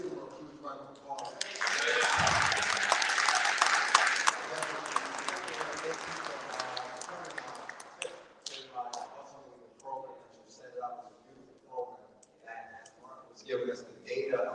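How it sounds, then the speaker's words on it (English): Applause from the audience at a mayor's monthly men's meeting, a dense burst of clapping that fades after several seconds into scattered claps and voices in a large room. "Let's give him a huge round of applause"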